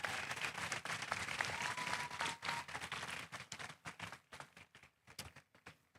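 An arena crowd at the San Antonio Rodeo market broiler show and sale applauds broiler exhibitors, a fairly distant, steady patter of clapping that thins out and fades toward the end.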